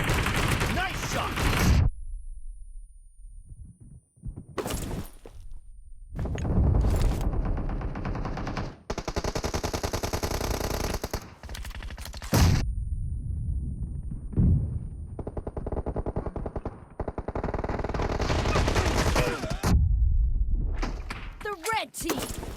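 Shotgun blasts in a PUBG Mobile team deathmatch ring out in loud, repeated bursts between quieter stretches, layered with game effects and snatches of voice.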